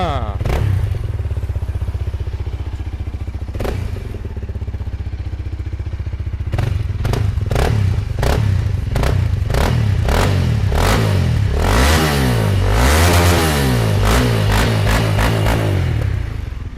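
A Honda Rebel 300 motorcycle engine cranks and fires, idles with a loud steady thrum, then is blipped through a run of sharp revs. Voices are heard over it.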